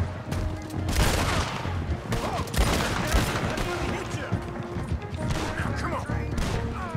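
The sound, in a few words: gunfire in a video game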